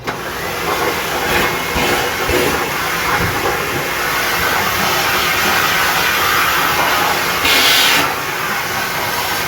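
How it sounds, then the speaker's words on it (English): A vacuum cleaner runs continuously while sucking up cut hair after a Flowbee home haircut, a loud steady whooshing hiss with a brief surge near the end and no speech. "You grab your vacuum cleaner"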